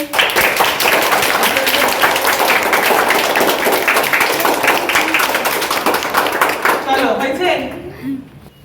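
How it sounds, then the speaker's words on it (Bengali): A room full of students claps in dense, sustained applause, loud and close, at a teachers' day celebration, thinning out toward the end as a voice speaks briefly. "সবাই একটা হাততালি দে"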